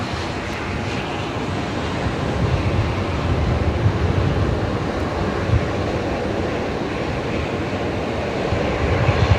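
A Singapore Airlines Airbus A350-900 jet approaches Brisbane Airport, giving a broad continuous rumbling roar at moderate distance that builds slightly over time, with no talk.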